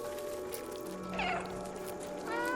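A cat meows in the video game Stray, giving a clear rising-then-falling meow and a second shorter call later. The calls sit over a steady ambient game soundtrack with tonal music and hum.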